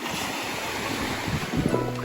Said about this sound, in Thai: มาดูบรรยากาศ ริมทะเล ตอนเช้า